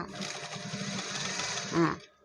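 A sewing machine runs in a steady fast whir while stitching elastic onto fabric for a clothing repair, then stops abruptly near the end after a brief louder burst.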